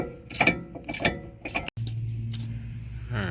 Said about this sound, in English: I'm gonna hit that 1/2 inch ratchet now.